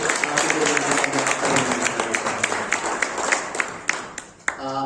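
Audience applause at an award ceremony, a dense burst of claps from a hall crowd that stays loud and steady before tapering off near the end.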